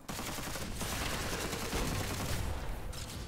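Rapid bursts of Cricket Gun fire in the dark fantasy shooter Witchfire, a dense, continuous crackle of shots with a few brief gaps, loud and close.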